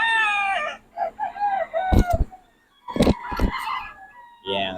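Roosters crow at a gamefowl breeder's yard in the Philippines, a couple of harmonic crows followed by sharp clucks and honk-like calls from nearby birds, with someone speaking intermittently.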